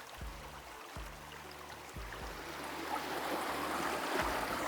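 A hillside stream murmurs and trickles steadily nearby in the Konkan, a soft continuous flow with a low hum and faint periodic clicks in the background.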